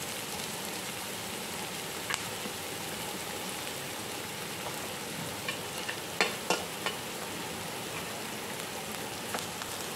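Vegetables stir-frying in a pan for veg manchurian, a steady soft sizzle with a few brief scraping clicks of stirring, fairly quiet and without speech.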